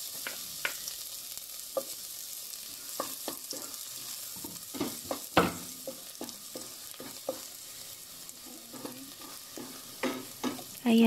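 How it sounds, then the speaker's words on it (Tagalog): Minced garlic sizzles in hot oil in a pan, giving a soft steady crackle with scattered clicks and scrapes from stirring and a louder clatter near the end. "Ayan, mainit na ating mantika. Ilagay na natin ang minced garlic."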